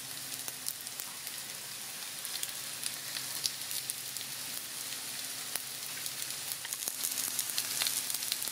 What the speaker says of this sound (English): Once it starts sizzling,